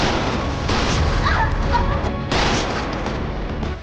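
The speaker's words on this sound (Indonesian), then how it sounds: "Pertarungan pun tak terelakkan. Sayangnya Somi dan Joan terkena tembakan." Loud bursts of gunfire and heavy booms in a chaotic fight scene, with sharp impacts and crashes layered over a rumbling background.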